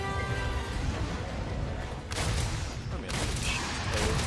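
Heavy bowgun shots with spread ammo ring out in Monster Hunter World Iceborne, two broad, sharp blasts about a second apart over a busy game soundscape.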